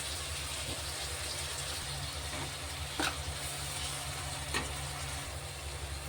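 Chopped onions fry gently in oil with a little salt. A faint, even sizzle carries along with a couple of brief utensil clicks, and a low background hum runs underneath.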